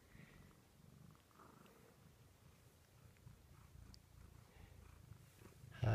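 A pet cat, kept indoors among house plants, purrs softly and steadily up close, a low rhythmic rumble running throughout and ending with a sudden louder bump.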